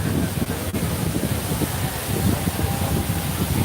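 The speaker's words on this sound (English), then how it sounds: "It's a little windy today." Wind buffeting a microphone outdoors at a theme park, a constant loud rumbling roar with gusty fluctuations.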